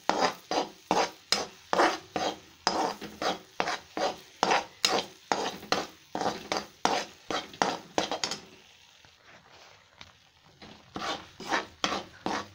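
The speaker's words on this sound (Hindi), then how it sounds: "ये देखिए हमारा बेसन पूरा हलवे की तरह हो गया है अब हम इसे चलाते हुए पकाना है" Gram flour being roasted in ghee for besan laddu is stirred with a spoon in a pan, a close, rhythmic scraping and rasping at a steady pace that pauses briefly, then resumes.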